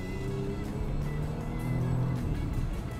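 A Porsche Panamera 4 E-Hybrid engine roars at close range, a loud, sustained rumbling drone that rises and swells briefly as it revs, with no talking.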